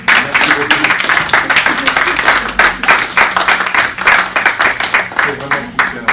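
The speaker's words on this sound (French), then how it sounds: "je vous demande d'applaudir très très fort" A seated audience at a community event applauds loudly for about six seconds, with dense, steady clapping and some voices mixed in.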